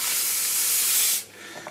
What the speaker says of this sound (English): I'm going to keep just using the iron to create the steam in the towel